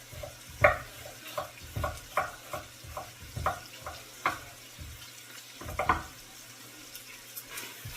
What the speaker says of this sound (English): the bacon grease in here to saute the vegetables in.